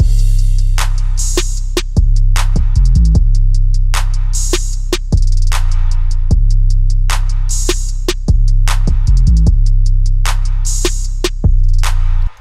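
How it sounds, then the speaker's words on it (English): Loud programmed hip-hop drum loop with booming kick and sliding 808 bass under crisp hi-hats and snappy hits, repeating in a steady groove. "the drums by themselves sound like this"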